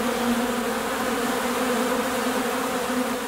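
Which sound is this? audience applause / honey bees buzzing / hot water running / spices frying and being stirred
honey bees buzzing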